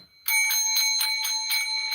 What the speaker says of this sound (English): Let me give you the ding dong.